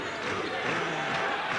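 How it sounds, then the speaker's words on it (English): A basketball crowd at a college men's game between Eastern Michigan and Central Michigan roars and cheers continuously in a large arena, a broad sustained wash of noise with faint voices mixed in. "Well, the crowds get into it finally."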